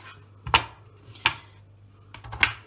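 A kitchen knife cuts a potato into thin slices for a potato börek, making three sharp, separate chopping knocks on a board over a faint steady hum.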